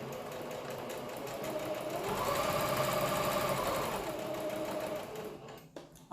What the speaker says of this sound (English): now I have placed it under the machine, and I will begin to sew the sleeve